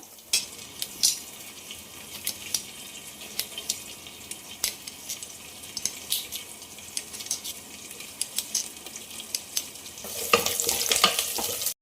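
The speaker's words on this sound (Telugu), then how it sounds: "ఎర్రగడ్డలు అయితే ఫ్రై అయిపోయినాయి" Onions sizzling and frying in a pan, a steady crackling hiss with scattered sharp pops and occasional stirring clinks, growing louder and brighter near the end.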